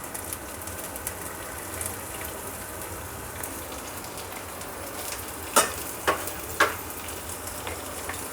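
Soft, continuous sizzling of fenugreek seeds frying in oil, with a few brief crackles and pops near the end.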